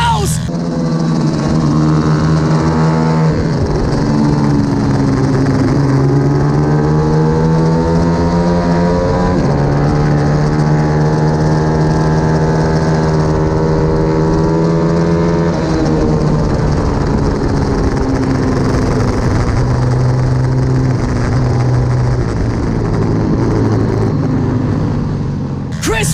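Two pit bikes in a UK drag race to the finish line, engines revving hard and steady for the whole stretch, with rising and falling pitch under a crowd or commentator's voice.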